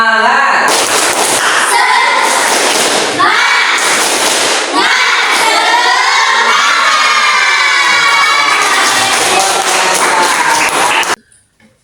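A classroom of children shouts together in a loud rhythmic chant, with bursts of clapping in time, ending abruptly.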